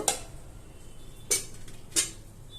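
A metal lid set onto a pot of chicken curry: three separate clinks of metal on metal, crisp and close, spaced over a quiet background.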